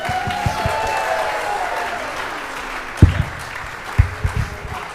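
Audience applause after a first-time sight-reading performance during a live stream, a moderate steady patter of claps fading over a few seconds, followed by a few scattered louder thumps and claps near the end.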